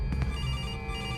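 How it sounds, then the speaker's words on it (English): A telephone rings in a horror video game featuring animatronics, a loud electronic ringtone that sounds steadily and close up with no talk over it. "Who the fuck's calling me?"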